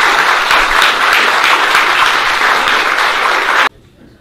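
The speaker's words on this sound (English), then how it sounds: "Applaud them again" Loud, sustained applause from a large conference audience in Lund fills the space for several seconds, then stops abruptly into near silence.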